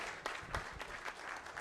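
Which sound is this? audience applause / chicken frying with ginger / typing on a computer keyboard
audience applause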